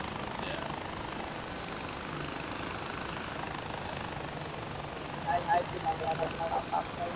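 A propeller plane engine in Far Cry 4 hums continuously at moderate level, with a few short bursts of game sounds toward the end.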